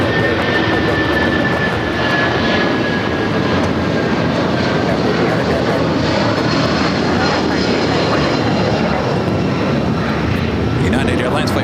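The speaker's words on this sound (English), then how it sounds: "United Airlines Flight 1400 heading to Chicago O'Hare in the 757-200" United Airlines Boeing 757-200 taking off at LAX, a loud continuous jet engine roar filling the whole stretch, with a voice talking over it.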